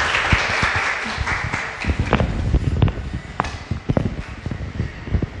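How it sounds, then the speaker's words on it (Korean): An audience applauds at a live talk event welcoming a poet, with a steady patter of many hands clapping close by that swells and thins in uneven waves. "박수 부탁드립니다"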